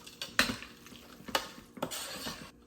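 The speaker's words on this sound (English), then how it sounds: "We're gonna stir this all together." Corn and beans are stirred into salsa verde in a pot, giving faint clinks and scrapes of a utensil against the pot at an uneven pace, with no voices.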